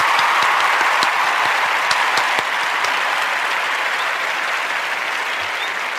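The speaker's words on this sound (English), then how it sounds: "we're going to give this young man a special round of applause" A live audience gives a loud, sustained round of applause, many hands clapping densely and close, with a few sharper individual claps standing out as the ovation slowly eases toward the end.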